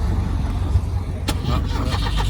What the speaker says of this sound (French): il y a un Porsche qui passe